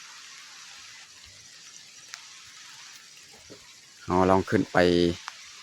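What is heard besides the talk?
rain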